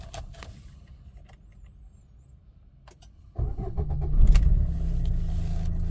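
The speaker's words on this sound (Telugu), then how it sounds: "ఒకసారి ఇంజన్ స్టార్ట్ చేస్తున్నానండి" A 2017 Maruti Suzuki Ciaz VDI+ diesel engine cranks briefly and catches at once on a single start, settling into a steady, loud, low idle after a few quieter clicks and knocks.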